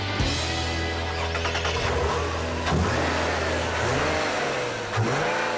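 A 2010 Nissan 370Z with its 3.7-litre V6 revs hard and loud up close. The engine note rises and falls through several throttle blips, and no one talks.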